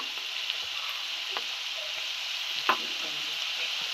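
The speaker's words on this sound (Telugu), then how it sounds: "మంచిగా రెడ్ కలర్ వచ్చేంత వరకు ఫ్రై చేసుకోండి." Okra (lady finger) deep fries in oil, a steady bright hiss of bubbling oil with a couple of faint clicks from stirring, close and even throughout.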